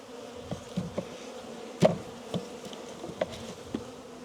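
Honeybees drone in a steady low hum from an open hive during a spring inspection of an insulated condensing hive, with a few soft knocks and clicks of handling scattered through the buzzing; no one talks.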